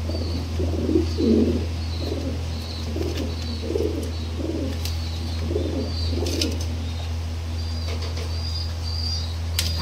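Several king pigeons in a fancy pigeon loft coo in soft, repeated throaty bursts close by, with a constant low hum and occasional small chirps and flutters around them.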